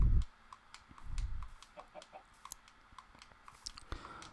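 Chickens cluck in a video game, a few short, light clucks scattered over quiet game ambience, with a deeper thump near the start.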